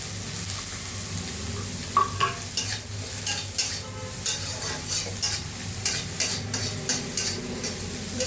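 Diced eggplant fries lightly in a pan, an even sizzle broken by repeated scraping stirs and soft utensil knocks at a loose, regular pace, close and clear with no voices.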